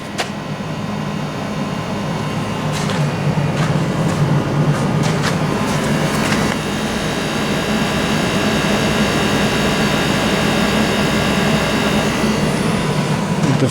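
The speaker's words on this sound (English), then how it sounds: "So you can hear what noise the heat pump and the fans make." A Hyundai Kona Electric's heat pump and fans run in winter, a steady broadband whir and hum heard from outside near the front of the car, with a few clicks and knocks early on.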